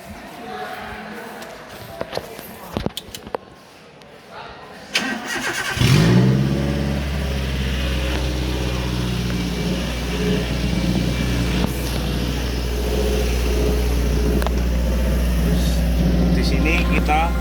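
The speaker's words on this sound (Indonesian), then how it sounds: "Setelah dipasang, lalu kita nyalakan mesin kembali." A car engine cranks and catches, then settles into a steady, loud, low idle that runs to the end, after a few sharp handling knocks and brief talk.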